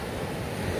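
Rough sea surf washing in at a fishing beach in Ocho Rios, Jamaica, a steady broadband roar of breaking waves with wind buffeting the microphone, loud and continuous with no voices.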